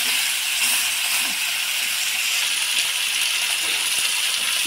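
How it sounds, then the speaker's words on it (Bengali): Fish frying in a pan for maskolai dal, a continuous close, even sizzling hiss with no talk. "এখন মাছটা ভাজা হবে।"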